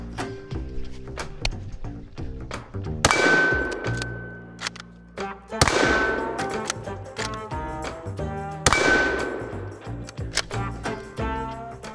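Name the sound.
308 rifle bullets hitting 3/8 inch AR550 steel target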